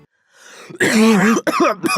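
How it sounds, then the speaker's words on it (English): A single rough, throaty cough close up, followed by a couple of short hacking bursts. "quite a nasty cough you have there"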